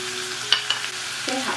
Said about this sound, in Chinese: 然后我们来起锅热油，油稍微多一点，加入蒜蓉、姜粒